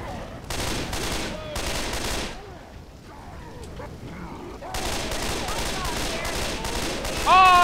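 Minigun fire in Left 4 Dead 2 comes in long, dense, rapid bursts with a brief lull in the middle, mixed with game noise and players talking over the shooting.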